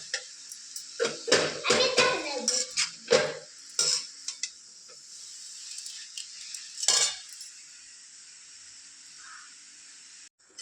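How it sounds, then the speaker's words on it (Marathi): Grated pumpkin roasting in ghee in a pan, with bursts of scraping and clinking as a utensil stirs against the metal, then a quieter stretch of faint sizzling; a voice is briefly heard. "आता हे चांगलं तुपात भाजून घेऊया आपण आधी जरा वेळ आणि मग गुळ टाकूया"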